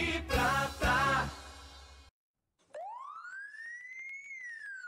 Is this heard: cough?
no